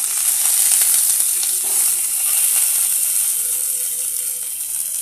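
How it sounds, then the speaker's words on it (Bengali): Hot oil in a pan for frying an egg gives a loud, constant hiss from start to finish, with faint clicks and a brief tonal squeak mixed in and no voices. "এখানে তেলটা দিলাম ডিম ভাজা করার জন্য"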